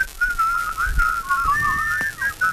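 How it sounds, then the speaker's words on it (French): A person whistling a wavering tune during a French morning radio news show, clear and close, with a few brief pauses and no talk over it. "s'il vous plaît, sifflez."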